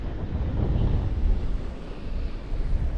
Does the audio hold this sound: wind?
yes